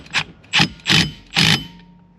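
Four quick ratchet strokes clicking close by as a steering wheel quick-release hub on a BMW E36 is snugged up, each burst crisp and evenly spaced.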